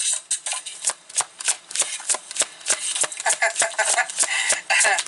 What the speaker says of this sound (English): card shuffling.